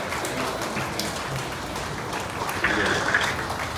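Wedding guests clap for the couple in a dense, sustained round of applause that runs throughout like a hiss of many hands and swells slightly near the end.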